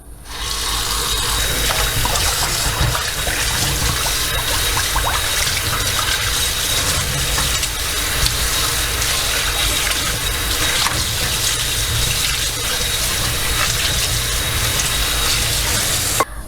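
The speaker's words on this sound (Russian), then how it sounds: "Включаю воду." Water gushes steadily from a kitchen tap while a greasy frying pan is washed at the sink, a loud, constant close-up rush that fills the whole stretch with no one speaking.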